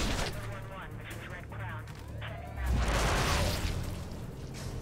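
Gunfire in the action game Prototype 2: muffled, dense bursts of shots and crashes under a busy game soundscape, rising into a louder roaring blast near the end.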